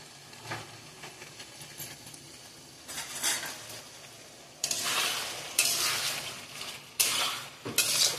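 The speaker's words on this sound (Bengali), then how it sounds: "নাড়িয়ে চাড়িয়ে সুন্দর করে আলু পোস্ত" Potatoes for aloo posto are stirred in a pan, with scraping utensil strokes and a steady sizzle that grow louder and more vigorous in the second half, alone without talk.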